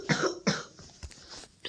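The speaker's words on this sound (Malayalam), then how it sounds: "എനിക്ക് ഭയങ്കര ചുമ, എന്താണെന്നറിയത്തില്ല" A person with a bad cough gives two sharp, close coughs in quick succession, followed by quieter rustling and faint background noise.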